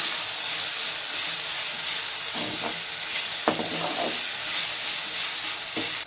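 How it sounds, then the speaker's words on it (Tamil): Chopped tomatoes sauté with ginger and garlic in a hot pan, giving a steady loud sizzle and hiss, with a few scraping stirs of a spoon along the way. "அது நல்லா மசிகிற வரைக்கும் நல்லா வதக்கி விடுங்க."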